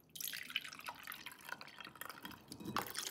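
Tea strained and poured into a glass makes a soft, steady trickle with small drips and splashes, running continuously at close range with no talking.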